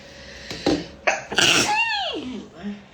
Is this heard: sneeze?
yes